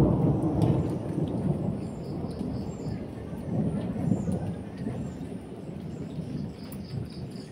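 A morning thunderstorm brings steady heavy rain, with deep rolling rumbles of thunder that swell and fade across the whole stretch. It sounds loud and close and continuous.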